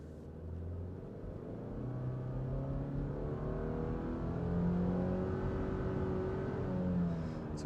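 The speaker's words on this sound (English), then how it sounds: "I want to show you guys what this looks like and sounds like on acceleration." A 2025 Subaru Forester pulls away from a complete stop, its engine note rising steadily and smoothly under firm throttle, a muffled, moderate rumble heard from inside the cabin.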